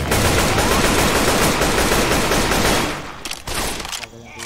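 Dense, loud assault rifle fire and overlapping gunshots in Left 4 Dead 2 fill the first three seconds, then thin out into scattered, quieter shots.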